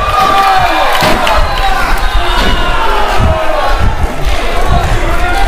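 Crowd at a Singapore Pro Wrestling championship match reacting loudly and continuously, a dense roar of voices with shouts and thuds from the ring, while a commentator talks over it.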